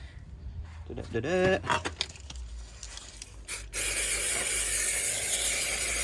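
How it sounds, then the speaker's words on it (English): Brake cleaner hisses in a steady loud spray onto a car brake disc on a Corsa D VXR, starting partway through after some clicks, clanks and brief talk. "Right then, brake clean this."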